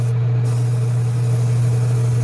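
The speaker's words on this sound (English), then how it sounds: "we're going to go ahead and start spraying some yellow on this body" An airbrush sprays yellow paint onto the body of a #46 City Chevrolet model in a continuous, even hiss with a steady low compressor hum underneath, loud and close, with no talking.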